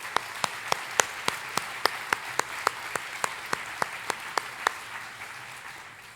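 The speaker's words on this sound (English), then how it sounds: "let's give her a round of applause" Audience applause at a United Way campaign kickoff event, heard as a steady, evenly spaced run of sharp claps close to the microphone that fades out at the end, with no one talking.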